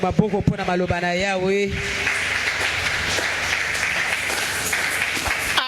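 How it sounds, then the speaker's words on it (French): A church congregation breaks into sustained, dense applause after a brief voice at the start, with the clapping steady and loud to the end. "On acclame pour la parole du Seigneur."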